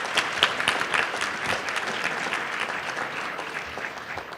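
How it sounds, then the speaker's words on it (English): Crowd applause at an awards ceremony for a student being honored, a sustained patter of many hands clapping at a steady level throughout, mid-distance in a large room, with no voices over it. "So round of applause, please, for Urvi."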